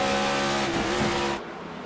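Race cars in a BRL racing video game at New Hampshire roar in a close battle on track, a loud sustained engine drone with layered pitches that drops off sharply near the end.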